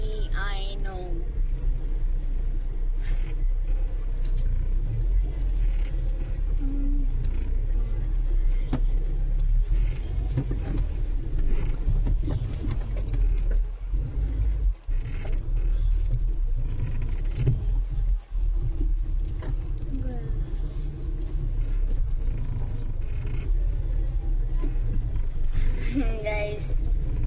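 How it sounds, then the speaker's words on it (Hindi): A car backs up in reverse gear, heard from inside the cabin as a steady low engine rumble with small knocks and rattles. People talk over it throughout. "रिवर्स का गियर लगा के पीछे।"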